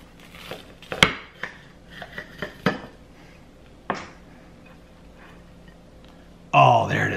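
A knife and utensils clink and scrape against a plate while a hot ham and cheese sandwich is cut open in a home kitchen, a series of sharp taps ending in a louder clatter.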